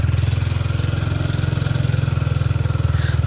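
A motorcycle engine runs at a steady, even throb on a narrow path to a small cold-spring river, close and loud with a regular pulsing beat and no talk.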